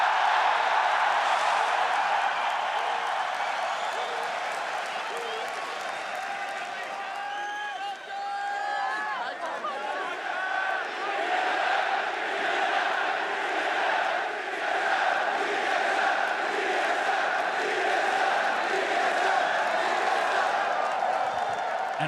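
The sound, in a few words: crowd cheering and applauding at League of Legends LCS match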